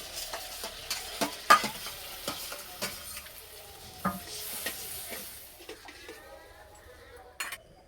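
Mashed raw mango and water go into a hot pan for a fish curry, bringing a soft sizzle under repeated spoon scrapes and clinks against the metal. The stirring is close, rhythmic and fairly quiet.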